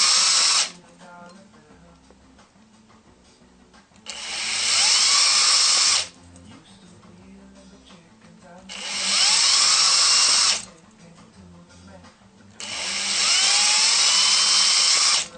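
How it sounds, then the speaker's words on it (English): A drill bores holes in a Bud Light aluminum bottle with loud, high-pitched whining bursts of about two seconds each, four in all, separated by quieter gaps of handling noise. "So now we've got all our holes drilled."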